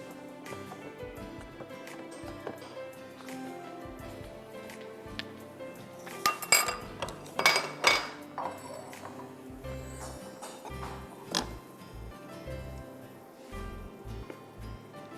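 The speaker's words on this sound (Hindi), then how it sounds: "अब इसको मैं डिश में निकाल दूंगी" Ginger oatmeal halwa scooped from a pan into a serving dish, with scattered metallic clinks and scrapes of a spoon against cookware, a cluster of louder knocks midway, and no talking.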